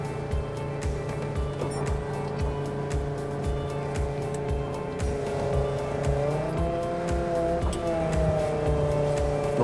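A construction machine driving with four-wheel steering, its engine a steady close drone with rhythmic ticking, rising slightly in pitch and loudness partway through.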